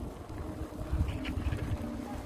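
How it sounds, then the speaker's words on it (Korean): Wind gusting across a microphone outdoors at a public square where people are inline skating, a low steady rumble with soft buffeting, faint and continuous. "바람이 불어서"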